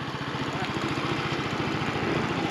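A motorcycle engine runs steadily at a low idle, close and loud, with an even throbbing pulse and no change in pitch.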